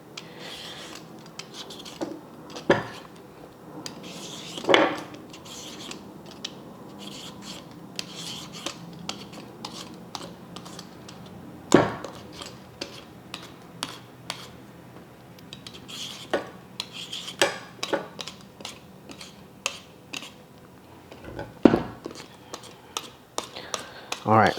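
A peeler scraping skin off a butternut squash makes repeated short rasping strokes with scattered sharper scrapes, close and fairly quiet, while a person talks over the work.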